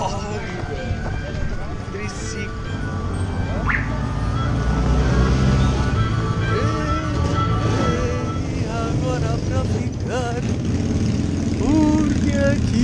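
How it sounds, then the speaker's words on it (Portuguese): Motorcycles arriving at a motoclub anniversary gathering on a farm in Santa Catarina, engines revving and passing nearby amid crowd noise, with someone talking over them. "Não para de chegar a moto."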